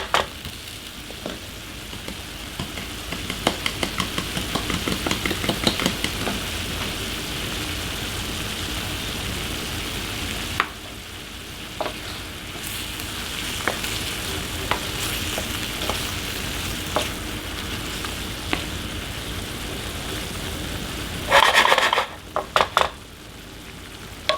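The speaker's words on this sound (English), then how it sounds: "We're going to let that simmer." Chicken carbonara simmering and sizzling in a pan, a steady close crackle like light rain, with occasional stirring clinks and a few louder scrapes of a utensil against the pan near the end.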